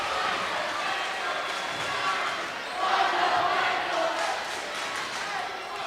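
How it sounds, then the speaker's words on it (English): Crowd noise in a high school gym at a Walker-Hackensack-Akeley vs Pine River-Backus volleyball match, a steady distant roar of spectators that swells into louder cheering midway, with ball bounces and murmured voices. "The crowd getting into it."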